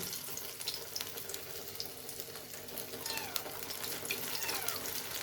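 Brinjal pakoras, battered eggplant slices, fry in hot oil in a pan, giving a steady, close crackling hiss with scattered pops and no talking.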